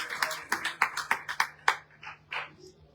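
A church congregation at a Spanish-language worship service claps hands as an offering to the Lord, about a dozen scattered, sharp claps at moderate level with no talking.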